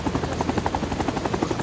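A helicopter in the Vietnam War shooter game Rising Storm 2: Vietnam beats its rotor in a fast, steady, loud thumping rhythm that fills the whole stretch, with no talking.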